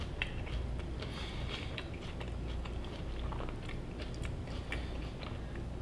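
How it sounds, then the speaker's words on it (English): Close chewing of a Sweetgreen fish taco salad, soft wet crunches and bites repeating steadily through the whole stretch with no talking. "I'm going to try to make this video while eating my salad"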